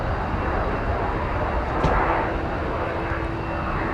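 A Delta airliner takes off from runway 17 at MSP airport, its engines giving a loud, steady roar that holds throughout without talking.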